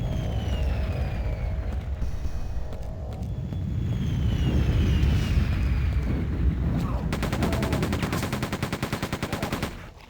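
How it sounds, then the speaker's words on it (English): Rapid automatic gunfire in the video game Quake 2, a steady stream of loud shots over a droning aircraft-like engine rumble, ending in a dense burst of evenly spaced shots near the end. "So as I'm firing, I'm pulling the mouse down to keep the recoil under control, right?"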